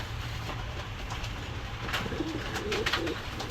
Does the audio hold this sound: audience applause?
no